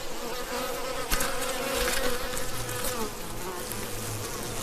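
Honeybees at the hive entrance make a dense, steady buzzing drone, close and continuous, with individual wingbeats flaring past now and then and no voices.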